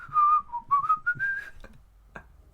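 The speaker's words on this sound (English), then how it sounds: "Whistling to himself." A man whistles a short, wandering tune to himself, a few clear sliding notes followed by some faint clicks and a brief soft blip, close and alone.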